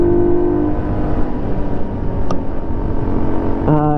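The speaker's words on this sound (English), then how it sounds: "You can see how much this thing revs right out," Small motorcycle engine of a CT70-style Amigo Rocky 125 minibike revving steadily and loudly up close, rising harmonic whine with a brief shift in pitch near the end.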